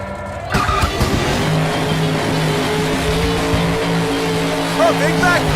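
Monster truck engines roar steadily at a Monster Jam arena show, with a continuous loud motor drone, tire skids and crowd noise, while an announcer talks throughout.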